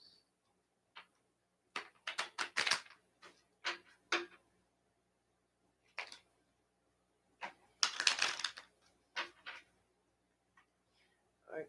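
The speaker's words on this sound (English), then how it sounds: "Let me just shuffle these cards." Quiet, close-up riffling and snapping of tarot cards in short bursts, with pauses between shuffles and no talking.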